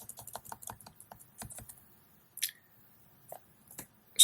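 Quick, light clicking on a computer keyboard, close and quiet, in bursts of rapid keystrokes, then pauses with a few isolated taps.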